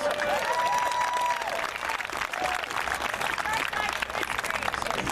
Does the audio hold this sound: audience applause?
yes